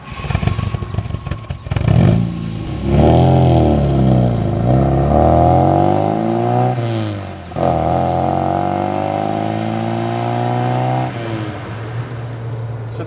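A Volvo Amazon 123 GT, fitted with stiffer, lower suspension, is driven hard, its engine loud and close as it revs up through the gears and falls back between shifts, with no talking.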